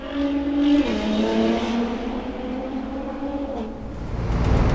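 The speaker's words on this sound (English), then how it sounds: "wow, loud motorcycle there" Loud motorcycle engine in the Euro Truck Simulator 2 driving game, a steady droning tone that holds and shifts pitch for several seconds over low road rumble, swelling slightly at the end.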